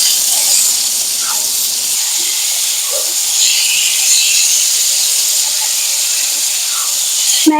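Marinated ridge gourd and prawns fry in a pan with a loud, steady, close sizzling hiss that runs unbroken throughout, with no talk.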